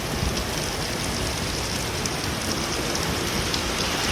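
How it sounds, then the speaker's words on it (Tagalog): Heavy rain pouring down outdoors, a dense, loud, unbroken hiss of drops striking surfaces, steady throughout with no voices. "sobrang lakas ng ulan"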